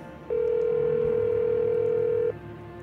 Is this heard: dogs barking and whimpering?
no